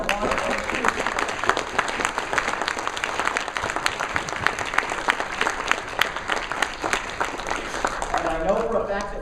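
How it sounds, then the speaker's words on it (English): A conference audience gives a big round of applause to one of its own organizers at ProductCamp Atlanta's closing remarks, a loud, dense clapping that keeps up throughout, with voices breaking in near the end. "we want to give him a big round of applause"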